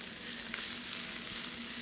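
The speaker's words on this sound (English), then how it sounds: "We're going to start off with the leeks. And we're just going to lightly saute," Leeks sauteing in neutral oil in a nonstick pan give a steady, close sizzle with a soft crackle throughout, with no voices over it.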